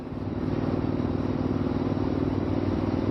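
A motorcycle's exhaust rumbling steadily while it is ridden along Left Hand Canyon Road, an even, moderately loud engine drone with a pulsing low throb that keeps going throughout.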